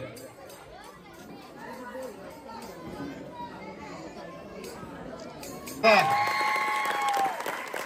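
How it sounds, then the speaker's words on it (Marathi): Applause breaks out at a children's fancy dress event for Holi, after a stretch of crowd chatter and children's voices, and continues as loud, dense clapping to the end. "छावासाठी टाळ्या आला बघा"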